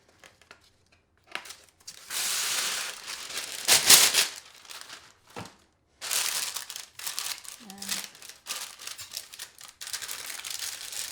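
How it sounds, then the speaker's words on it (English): Parchment paper is crinkled and pressed into a baking pan for a pumpkin dessert, giving loud crackling rustles in several bursts, close up, with a short pause between handlings. "I'm going to add a little bit of parchment paper."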